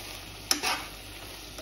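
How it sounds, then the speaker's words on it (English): Masalas sizzle gently in a pan with prawns and rice for a Goan prawn pulao, a soft, steady frying hiss broken by a brief stir and scrape near the start, heard close and quiet. "let it fry a little till the raw smell of the masalas go away"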